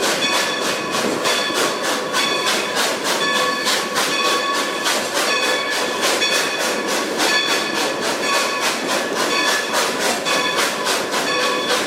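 Heard from aboard the Steptoe Valley Flyer, Nevada Northern #40 rolls along with a loud, steady clickety-clack of wheels on rail joints, a regular rhythm repeating throughout with no voices.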